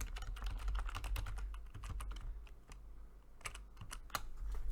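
Close computer keyboard typing, rapid irregular keystroke clicks that continue steadily with short pauses, heard alone with no talking.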